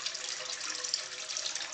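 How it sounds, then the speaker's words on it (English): Water spills from the fish-shaped spout of an indoor garden water feature into a tank, a steady, light splashing trickle heard alone and close by. "Water flows from the fish"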